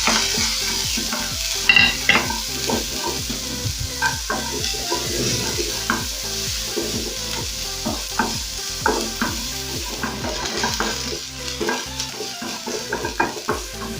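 Onions frying in coconut oil in a pan for chicken tikka masala, an ongoing sizzle broken by repeated scraping and clinking stirs at an uneven rhythm.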